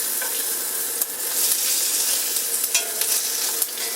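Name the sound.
Monte Cristo sandwich frying in cast iron skillet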